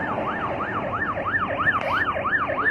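A Malaysian ambulance siren wails in a fast, steady up-and-down cycle, loud and near, with road traffic rumbling underneath.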